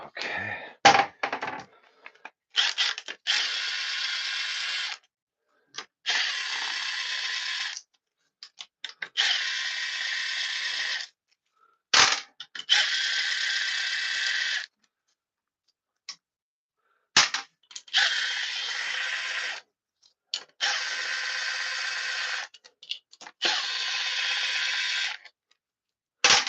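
Ratchet wrench working bolts loose on a 2005 Honda CBR600RR motorcycle, heard as repeated bursts of rapid clicking, each a few seconds long, separated by short pauses and sharp clanks, close and fairly loud with no talking.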